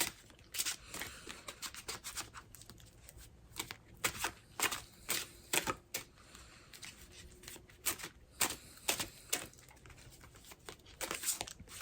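Tarot cards riffle and slap together in repeated quick bursts, close by and soft, with brief pauses between shuffles.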